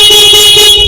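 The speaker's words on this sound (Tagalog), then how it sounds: "Busina." A Zontes motorcycle's electric horn blares loud and close in one continuous honk lasting just under a second, with no one talking.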